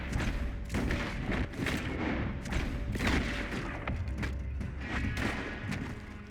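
Gunfire in the video game Red Dead Redemption 2 comes as a rapid series of sharp shots and thuds, dense and close, over a busy background with no talk.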